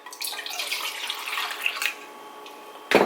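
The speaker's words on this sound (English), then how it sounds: "To make my life easier, I actually pour this in a mason jar." Homemade rose water being poured into a mason jar, a continuous splashing trickle of liquid that thins out, then a short clink at the end.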